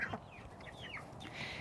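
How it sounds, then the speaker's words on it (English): Chickens clucking softly in a backyard chicken run on a poultry homestead, a few faint, somewhat distant clucks over a quiet background. "so that's the chicken run"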